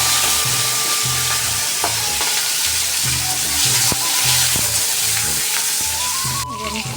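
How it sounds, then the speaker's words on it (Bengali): Black seeds and green chillies crackle and sizzle steadily in hot oil in a home kitchen pan, a loud, close, continuous frying hiss with occasional sharp pops and utensil knocks, no talking. "তেল গরম হতে দিয়েছি, এবার দেখো ওখানে আমি কালোগুলো ফোড়ন দিয়ে দিয়েছি, দিয়ে কাঁচা লঙ্কাগুলো দিয়েছি।"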